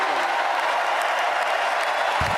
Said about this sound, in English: Why are they clapping for that?